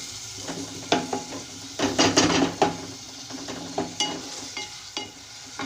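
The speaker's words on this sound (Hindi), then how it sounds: "थोड़ा सा इसको मिक्स कर लें।" Tomatoes are stirred in a hot frying pan while making aloo methi bhujia, with a steady sizzle broken by scraping spoon strokes and clanks, loudest in a cluster near the middle.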